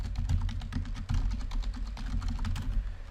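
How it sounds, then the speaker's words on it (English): Rapid, steady clatter of keys on a computer keyboard while an SQL update statement is typed for an Oracle PL/SQL tutorial, close and fairly quiet, with no talking. "Now let's type our update."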